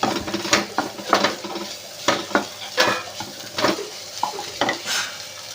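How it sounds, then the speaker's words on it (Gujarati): Green chickpeas roast in a pan as their moisture cooks off, giving a steady close sizzle broken by repeated scraping and stirring strokes of a spoon against the metal, with no talking. "હજી પાણીનો તડકડ અવાજ આવે છે"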